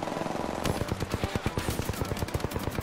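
Rapid machine gun bursts in the shooter game Apex Legends, a fast regular rattle of close, sharp shots that starts a moment in and keeps going without a break.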